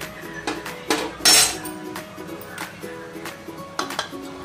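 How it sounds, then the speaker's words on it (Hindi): Marinated chicken stirred into cooked masala in an Amway Queen Optitemp pan, a spoon clinking and scraping against the metal in irregular knocks, with one brief louder clatter. "अब मैं इसमें मिक्स कर रही हूँ चिकन।"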